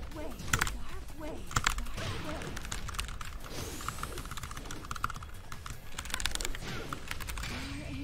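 Computer keyboard typing, rapid clattering clusters of keystrokes in irregular bursts, close and fairly loud, with faint background game sounds.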